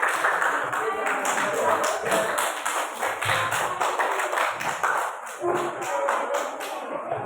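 Classroom students clapping for a group after a lesson on algorithms, a busy stretch of uneven hand claps and taps with voices mixed in throughout.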